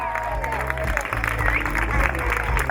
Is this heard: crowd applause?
yes